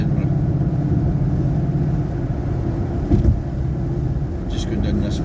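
A Ford Mustang 5.0 with a Coyote V8 cruises along a motorway, its steady low engine rumble and road noise filling the cabin continuously, with a brief thump partway through.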